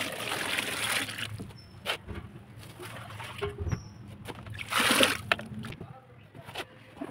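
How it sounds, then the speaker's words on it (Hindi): Water poured into thin muddy soil and stirred by hand, giving irregular splashes and sloshing bursts at close range, with a louder churning surge near the end. "अब जो है इसके अंदर थोड़ा सा पानी डालते हैं।"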